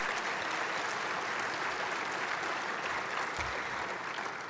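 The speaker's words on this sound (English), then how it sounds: "A big applause." Steady applause fills a wine symposium hall as the audience claps for a student being introduced, a dense continuous wash of clapping with no talk over it.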